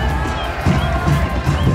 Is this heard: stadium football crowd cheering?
yes